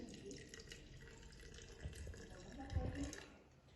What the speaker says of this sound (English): So I'm going to give it a quick rinse.